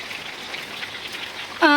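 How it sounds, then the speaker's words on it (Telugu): Rain falls steadily outdoors as a continuous soft hiss of drops, moderately close, ending with a brief burst of another sound. "సరే సరే వర్షం పడుతుంది"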